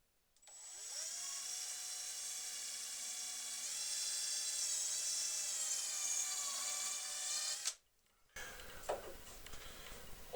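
A power drill fitted with a 6 mm bit whines steadily as it bores through stacked wooden boards, a loud, sustained high-pitched drone lasting several seconds before cutting off, followed by faint handling noise.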